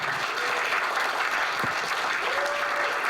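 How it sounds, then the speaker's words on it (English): Dense, steady applause and cheering from a crowd at a speaking event as a guest speaker is welcomed onto the stage; a continuous wash of clapping with a faint whistle or cheer rising through it. "please give him a huge round of applause"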